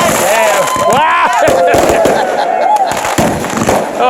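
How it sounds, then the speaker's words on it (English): New Year's fireworks at Lee Lake Tavern explode in rapid succession, loud nearby bangs and crackles with whistling rises, while people talk and exclaim throughout. "That's a hell of a fireworks show."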